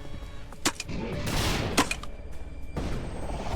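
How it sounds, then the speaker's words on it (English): Grenade launcher fire in a zombie action video game, with a few sharp blasts and a longer booming burst of explosive noise in the middle, then further rumbling bangs. "we're gonna pull out the grenade launcher"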